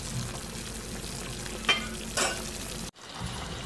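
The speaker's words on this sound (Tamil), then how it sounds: "இன்னும் நல்லா கொஞ்சம் பச்சை வாசம் போகிற வரைக்கும் கொதிக்கட்டும்." Tomato sambar for idli cooking in a pot, giving a steady broadband sizzling, bubbling hiss with a couple of brief clatters from stirring, close and continuous before a sudden cut.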